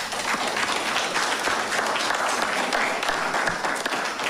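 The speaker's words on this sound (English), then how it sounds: "Can you give them a round of applause?" A crowd applauds steadily at a town hall meeting on gun and gang violence in Bermuda, a dense wash of many hands clapping at once, sustained and fairly loud throughout.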